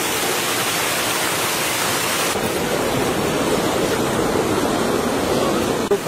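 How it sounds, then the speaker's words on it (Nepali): A large volume of water rushes steadily through a drainage chamber and pipe channel, a loud, unbroken roar with no voices. "यत्रो पानी जाँदो रहेछ अहिले अब घर यत्रो पानी जाँदो रहेछ"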